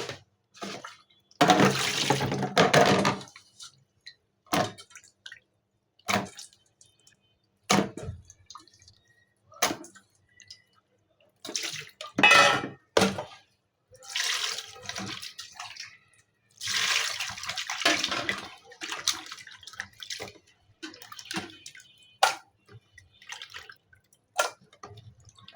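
Goat kidney being rinsed by hand under a running kitchen tap, with water splashing and dripping in repeated bursts over about twenty-five seconds, close and fairly loud.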